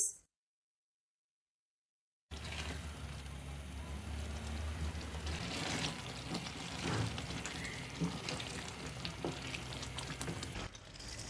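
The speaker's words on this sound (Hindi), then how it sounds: "अब पालक डालने के बाद हम तकरीबन 10 मिनट भून लेंगे" Spinach and mutton for palak gosht are being fried, a continuous moderate sizzle with stirring scrapes that begins after a couple of seconds of silence and runs on steadily and close.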